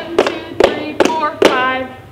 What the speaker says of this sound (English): Okay, so the claps at the end go like this.